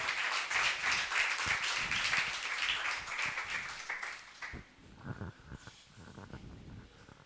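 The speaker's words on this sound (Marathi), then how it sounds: "आपण जोरदार टाळ्या वाजवून स्वागत करूया" A church congregation claps loudly to welcome a pastor, with dense sustained applause that thins out and fades into scattered claps toward the end.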